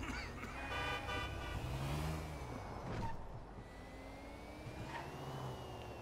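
A car in the GTA video game races along with a steady, loud engine roar throughout, briefly joined by a horn toot and passing traffic noise.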